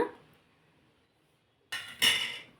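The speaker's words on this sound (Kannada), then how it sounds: "ಪ್ಲೇಟ್ನ ಮುಚ್ಚಿ ಇಟ್ಬಿಡ್ತೀನಿ" A plate set over a bowl of gulab jamun soaking in sugar syrup, heard after a quiet pause as a close ceramic scrape and clack followed by a brief rattling clatter.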